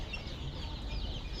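Desi chickens in a brooding shed, soft clucking from several birds over a steady background hum, close and continuous with no clear talking.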